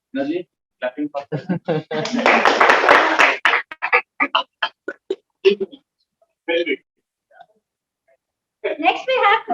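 At a Toastmasters district judges training meeting, a brief burst of audience clapping lasting about a second and a half rises between stretches of a speaker talking.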